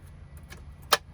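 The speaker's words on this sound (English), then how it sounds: "The keys fall out of the ignition." Car keys drop out of the ignition of an old project car with a broken windshield and exposed wiring, a single short metallic jangle against a low steady background hum.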